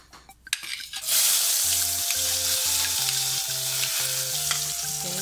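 Garlic dropped into hot oil in a pan for sinigang with canned mackerel: after a few clinks, a sudden loud sizzle erupts and holds steady and close, with stepped musical tones underneath.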